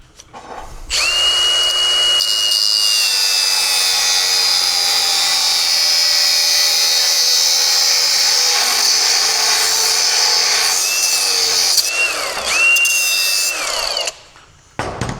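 A power tool chops through a car steering shaft during a roadster build, a loud, sustained metallic whine and grinding that holds steady for over ten seconds, briefly dips near the end, then spins down, with no voices.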